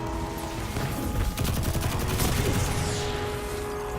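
Rapid submachine gun fire from an SMG in the video game Destiny 2, a dense fusillade of quick shots peaking near the middle, heard over a steady in-game background rumble.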